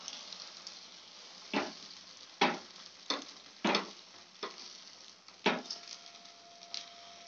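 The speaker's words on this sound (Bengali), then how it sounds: "এবার একটু ভাজা হয়ে যায় ডিমটা" An egg sizzles in hot oil in a pan as it fries, a soft steady hiss broken by several sharp scraping clicks from a utensil, close and alone.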